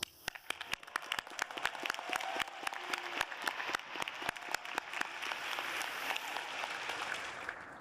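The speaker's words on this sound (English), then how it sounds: "Please join me in cheering the philosophers." Graduation ceremony crowd in Pauley Pavilion at UCLA commencement claps for the philosophy graduates, crisp individual claps building into sustained applause that thins out toward the end.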